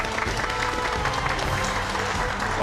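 Steady applause fills a Korean television studio as the audience greets an arriving guest on a health program, a dense wash of clapping at constant loudness with a slight swell at the end.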